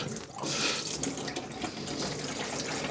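Hot water pours and splashes onto the engine parts of a Rover 75 with a K Series engine during a head gasket replacement, a steady close hiss and trickle lasting throughout with no talk.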